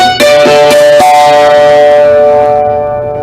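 A hammered dulcimer is struck in a kite-shaped chord pattern, its bright, loud strokes ringing with long sustain that slowly fades, close and with no voices.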